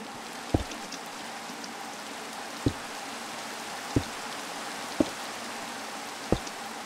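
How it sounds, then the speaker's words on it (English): Rain falling in the Minecraft video game, a soft steady hiss of light rainfall with five sharp low thumps spaced irregularly across it, fairly quiet and without talk. "Looks like the rain is cleaning up a bit."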